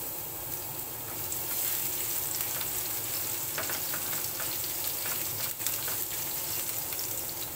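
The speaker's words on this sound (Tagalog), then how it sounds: "dito pa rin sa kawali na ito na ating pinagpritohan kanina ay magigisa tayo ngayon ng" Garlic sautéing in a frying pan already used for frying, a continuous crackling sizzle with light stirring, fairly quiet and close, no talking.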